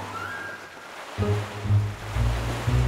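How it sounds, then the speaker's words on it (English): Wild ocean waves roll in an animated children's cartoon scene, a loud low rumbling surge that builds and keeps churning after a brief quieter start. "He's angry. That's why the waves are so wild."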